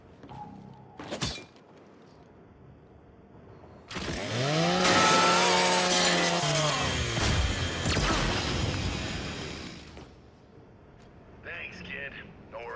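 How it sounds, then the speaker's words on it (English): The Lancer's chainsaw bayonet in the video game Gears 5 revs loudly for about six seconds, a whining motor that rises and falls, framed by sharp thuds and crunches, with voices in the game. "just use your Lancer's chainsaw"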